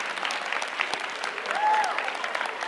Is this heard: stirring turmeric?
no